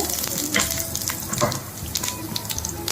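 Cumin seeds sizzle in two spoons of hot oil in a kadai, a loud, close, continuous crackling hiss with scattered sharper pops throughout.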